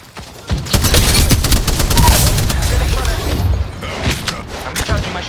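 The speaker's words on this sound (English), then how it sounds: "I'm under fire." Rapid gunfire from the battle royale game Apex Legends, dense bursts of automatic shots and booms running loud through most of the stretch, thinning out toward the end with a few scattered shots.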